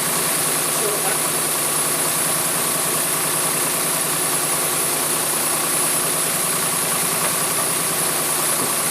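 Jaguar AJ30 engine, just restarted, idles steadily and close by, a continuous even hum with a faint ticking rhythm that holds throughout without revving.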